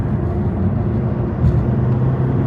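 A turbocharged rental car engine runs with the pedal floored, making a loud, steady low drone that barely climbs in pitch and has a slight surge near the middle.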